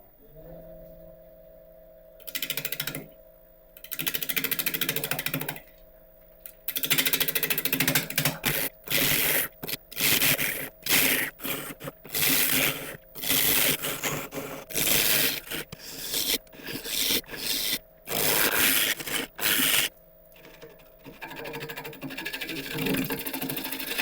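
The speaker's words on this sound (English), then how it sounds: "Initially turning now, we're at about 850 RPM, so that's a pretty good speed to start off with, and carrying on with the 3/8 bowl gouge." A wood lathe turns a mulberry bowl blank at about 850 RPM while a 3/8 bowl gouge cuts it, giving loud bursts of rough scraping and shearing that start and stop in quick repeated passes over a steady motor hum.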